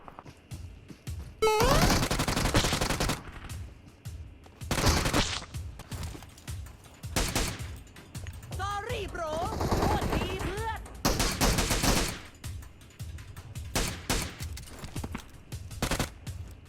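Bursts of rapid gunfire in PUBG Mobile, including shotgun blasts, come in several loud clusters, separated by brief pauses, with faint background effects between volleys.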